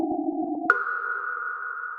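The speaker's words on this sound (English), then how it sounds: "What you're hearing is raw electromagnetic radiation data" Raw electromagnetic radiation data captured by the Cassini spacecraft at Saturn's north pole, played as sound: a warbling two-tone hum that jumps abruptly to a single steady, sonar-like tone and holds, with no voices.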